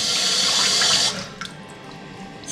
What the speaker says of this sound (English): Right, so the water's back on, turn the taps on gently